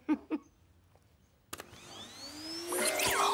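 A vacuum cleaner switches on with a sharp click and whirs up to a loud, steady whine, after a couple of brief knocks in a quiet room.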